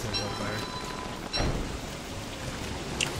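Rain falls in the Don't Starve Together video game, a steady hiss of downpour with one brief louder burst midway and faint tones underneath.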